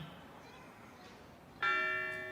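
A fire station bell rings at a station dedication ceremony. After a quiet stretch, one loud, clear metallic strike rings out and decays slowly with a sustained tone.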